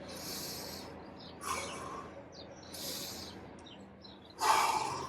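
Several deep breaths drawn and pushed out in turn, four breathy hissing pulses spaced about a second apart, close and fairly soft in a quiet room with a low hum.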